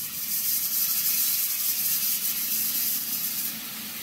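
Black cumin seeds and a paste of cumin, ginger and chili hiss and sizzle in oil left from frying fish. The sizzle is a steady, continuous hiss that fades slightly at the end.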